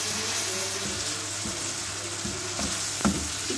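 Ginger garlic paste sizzles and fries steadily in a pan, a continuous hiss with a few light stirring scrapes, heard alone with no talking.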